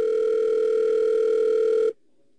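Telephone ringing tone heard while placing a call at an Apple WWDC 2010 keynote: one steady, loud, humming tone held for about two seconds, then cutting off abruptly into near silence.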